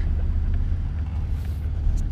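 A truck runs with a steady low engine rumble while dumping a pile, heard close and continuous without talk.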